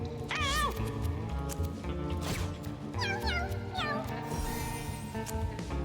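A cat character in a video game meows in a few high, bending calls over a dense, loud game soundtrack, with some voice mixed in.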